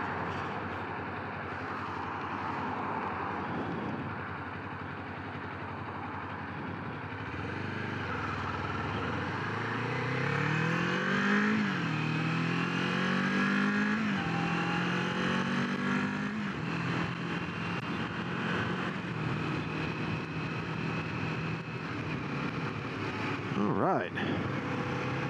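A Kawasaki Z400 motorcycle engine climbs steadily in pitch as it accelerates to road speed, then settles into a smooth cruising drone under steady wind rush.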